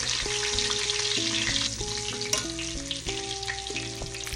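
Chicken pieces frying in avocado oil, a constant bright sizzle close by beneath a melodic music backing.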